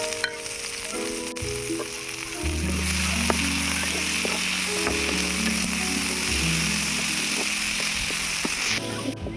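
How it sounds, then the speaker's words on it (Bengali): Cauliflower florets fry in oil with a little salt, a loud close sizzle that swells and holds steady, with faint stirring clicks and a low background hum. "অল্প একটু নুন দিয়ে ফুলকপিগুলোকে ভেজে নেব।"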